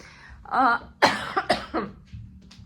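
A person coughs a few times in quick, raspy bursts, close up, with quiet pauses between.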